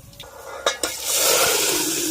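Whole garlic cloves drop into hot oil for tempering a kanijara bhaji, setting off a loud, steady sizzle that swells after a couple of sharp clinks of a utensil against the pan.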